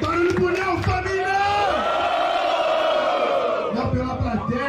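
A rap battle audience in Brazil roars, whoops and yells for a rapper, a loud sustained crowd shout with a host calling out over the noise.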